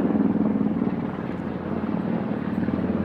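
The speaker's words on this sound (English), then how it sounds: "Helicopters." A helicopter flies overhead, its rotor making a loud, steady chopping thrum with a broad engine roar that holds constant throughout.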